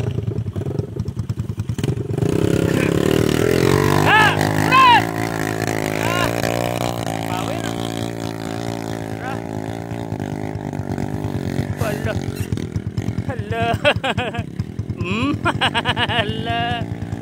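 A motorcycle engine revs and accelerates near the microphone at a hauler event in Banaybanay, Davao Oriental, Philippines. The engine roars steadily, falls back, then surges again, and voices talk over it.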